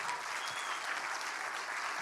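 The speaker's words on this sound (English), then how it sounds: "So please give yourselves a round of applause for being here." Conference audience applauding themselves during a game developer event, a dense, steady wash of many hands clapping at moderate distance, even and unbroken throughout.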